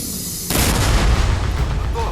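Self-propelled artillery in Ukraine fires a shot, one heavy, sudden boom that cuts in and rolls on as a loud rumble, with a voice speaking over it.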